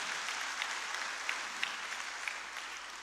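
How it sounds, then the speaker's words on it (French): Church congregation applauding the parish priest during Sunday Mass, steady moderately distant clapping with a few sharper individual claps throughout. "Il faut qu'on applaudisse le curé."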